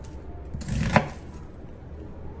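A knife slicing vegetables for a healthy dish, with a cluster of cuts building to one sharp, close chop against a board, then quiet.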